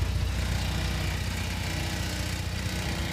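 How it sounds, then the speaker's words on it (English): Porsche 924S engine idling with a rattle from the front, a steady low mechanical drone that stays close and even throughout, with no talking. "Basically, at idle, it's quite a rattly car."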